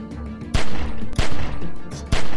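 Gunshots from The Walking Dead video game: three loud, sharp blasts spaced about half a second apart, each followed by a brief ringing tail over steady game background noise.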